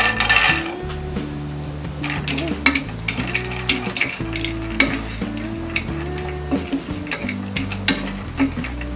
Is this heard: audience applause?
no